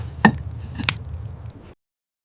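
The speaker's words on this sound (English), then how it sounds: "I am chopping wood. The axe goes up. The axe comes down. The log splits." An axe splits wood logs outdoors in a snowy valley at -71°C, two sharp chopping impacts in quick succession over a low rumbling background, close and fairly loud, then abrupt silence.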